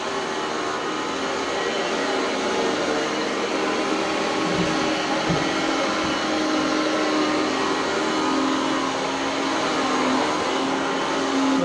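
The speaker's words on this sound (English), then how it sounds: "The motor kind of sounds like a Hoover" An Oreck Elevate Conquer upright vacuum cleaner motor whirs continuously at a steady, loud pitch through the whole stretch, with no voices over it.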